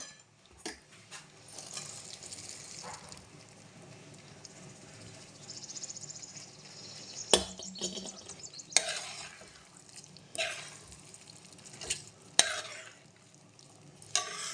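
Green peas are stirred into potato masala frying in a pan, with a steady close sizzle under repeated spoon scrapes and a few sharper clanks against the pan.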